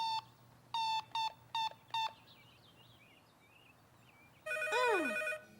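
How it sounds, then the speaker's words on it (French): A cartoon telephone rings in five short, evenly spaced electronic trills, followed after a pause by a louder, longer ring with a bright sweeping chime, clear and close against soft background birdsong. "le téléphone a sonné"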